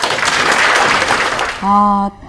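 An audience claps at a 2014 Gyeonggi Province disability welfare debate forum. Dense applause fills the first second and a half, then a sustained electronic tone briefly takes over before it cuts off.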